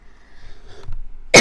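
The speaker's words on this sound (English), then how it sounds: "I hate this cough, literally." A sudden, loud single cough bursts out close by at the end, after a stretch of quiet room noise and faint background game sounds.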